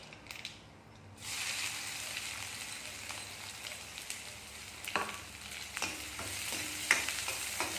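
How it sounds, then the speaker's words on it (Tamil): Mustard seeds hit hot oil and crackle into a steady, close sizzle, with a few sharper pops and small clatters rising over the hiss. "எண்ணெய் காஞ்சிடுச்சு, கடுகு போட்டுக்கலாம்"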